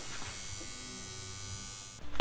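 Injectors two and three on a Datsun 510 wagon's KA24DET engine buzz as a MicroSquirt controller fires them, a faint, even electric hum held close by, ending in a brief louder clunk.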